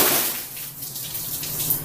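Half a bucket of ice with a little water poured out over a person for an ice bucket challenge, a brief broadband splash and rush of water lasting under two seconds, fairly close and loud.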